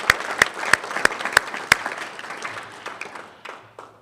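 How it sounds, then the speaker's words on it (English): A meeting audience applauds students who took part in the year's program, a burst of sharp claps at first that thins into scattered, fading clapping over about four seconds. "let's give them a round of applause for participation"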